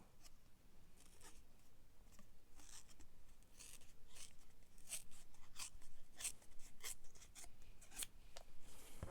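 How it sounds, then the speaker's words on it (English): Fabric tears by hand in a series of short, rough ripping bursts, close and fairly quiet, repeating irregularly. "It's not easy to tear now, that's the problem."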